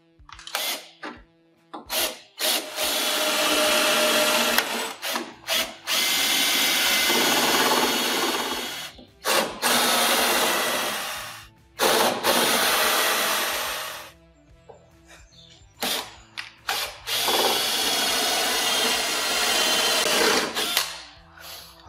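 Power drill boring out spot welds on a Land Rover bulkhead, loud and close, long sustained whining bursts of grinding metal separated by brief stops and restarts, with no talking.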